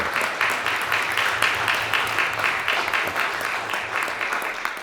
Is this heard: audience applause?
yes